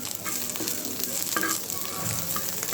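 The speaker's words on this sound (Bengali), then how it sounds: "এই মাছের মাথাগুলো আমি ভেজে নিচ্ছি পেঁয়াজ আর কাঁচামরিচ দিয়ে" Mola fish heads frying in oil with onion and green chili, giving a brief, close, continuous sizzle with crackles and the scrape of stirring.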